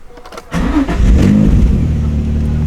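A Nissan 350Z engine cranks and catches after a brief quiet moment, then settles into a loud, steady, throaty rev and idle close by.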